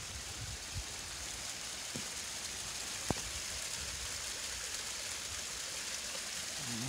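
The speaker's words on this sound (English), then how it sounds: "And this little waterfall" Small waterfall beside a bridge on a mountain trail, a steady broadband rush of falling water heard close, with a single sharp click partway through.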